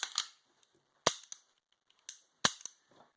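A Taurus PT99 AFS pistol slide is worked back onto the frame, producing a series of sharp, close metallic clicks and clacks in quick pairs separated by short silences.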